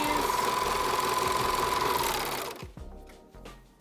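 A serger runs a fast, steady mechanical whir for about two seconds while stitching a fabric face mask seam, then stops, leaving a few faint handling clicks.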